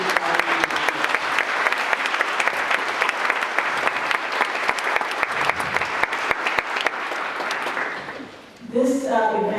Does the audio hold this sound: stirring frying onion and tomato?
no